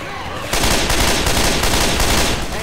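Loud continuous automatic gunfire shooting zombies in Left 4 Dead 2, a rapid sustained burst of close shots that starts abruptly and runs to the end without a pause.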